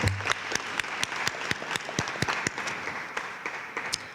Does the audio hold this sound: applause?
yes